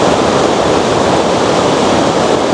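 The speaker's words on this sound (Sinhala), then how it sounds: "ළඟට මේක තමයි දියැල්ල." Waterfall near a deep Japanese train station in snowmelt season, a loud steady broadband roar of rushing water, continuous and close with no other sounds.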